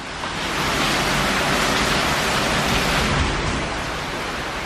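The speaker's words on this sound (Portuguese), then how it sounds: "Tá chovendo pra caramba." Heavy rain pouring down in a dense, loud hiss that fills the whole moment without a break, steady and close with no voices.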